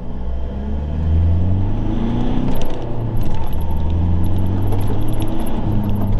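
A Mitsubishi Triton ute pulls up a hill in first gear, its engine rumbling steadily and rising in a continuous drone close to the microphone, with faint metallic rattles and jingles over the top.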